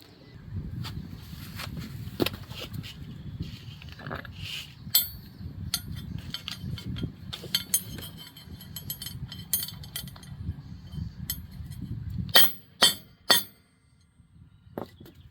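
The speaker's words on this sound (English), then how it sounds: "Now we just need to smash that and cut off the excess." Several sharp metallic clinks and knocks from smashing a DIY RV battery anti-theft device and trimming its excess, a cluster of close, loud strikes near the end after a stretch of quieter handling noise.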